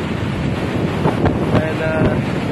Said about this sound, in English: Got a nice breeze blowing here off the ocean.